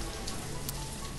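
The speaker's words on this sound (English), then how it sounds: "Come on, stop rain." Steady rain falls in the colony-building game Banished, a dense, even hiss of drops pattering on the ground and crop fields, with no voices over it.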